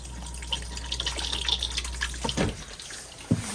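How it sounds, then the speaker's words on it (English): Water rushes steadily into the toilet bowl of an Auto-Trail F-Line F-70 motorhome as it is flushed, a close, hissing flow with a few small splashes and a brief knock near the end. "press the blue button behind here to get a flow of water into the bowl"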